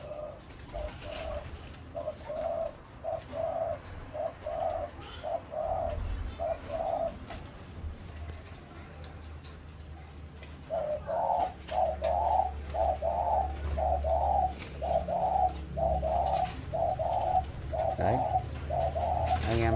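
Male doves coo in steady, rhythmic repeated phrases close by, pausing briefly midway, with soft background noise and occasional rustling.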